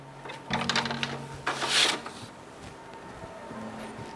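Sheet of green A5 cardboard fed by hand into a Xerox VersaLink C8000W printer tray: a few soft scraping slides and papery rustles with a light clunk, quiet against a faint room hum.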